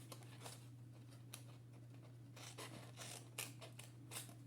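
Scissors snip around the edges of a paper gift box, a series of short crisp cuts in an irregular rhythm, close and quiet over a low steady hum.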